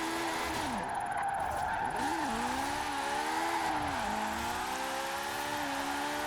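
A small Honda with its standard engine, tuned in Forza Horizon 4, revs hard and continuously, its engine note climbing and dropping through repeated gear shifts with a faint tire squeal, loud and steady throughout.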